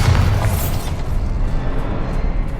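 A Bombarda spell explodes in Hogwarts Legacy: a loud, deep boom bursts out at once, then a rumbling, crackling tail of debris fades out, with no voices.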